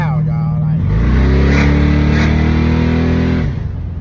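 A car fitted with new aftermarket mufflers and new suspension revs hard in one loud, sustained rise and hold for about three seconds, close by, with someone talking over the start.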